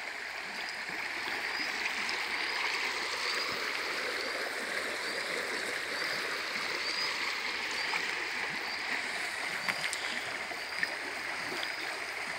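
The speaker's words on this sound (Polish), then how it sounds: "Nic, tylko tutaj usiąść, wsłuchać się w szum tej wody." Steady rushing stream water at a campsite in Norway, a continuous broadband wash with bubbling texture, close and fairly loud throughout, no voices.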